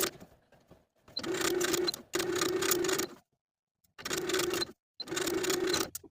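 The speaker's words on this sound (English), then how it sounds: "Now I'm going to sew the binding to the bottom of the sleeve with a 3/8 inch seam allowance" Sewing machine stitching binding onto the bottom of a blouse sleeve, loud close mechanical whirring in four bursts of about a second each, separated by short silent pauses.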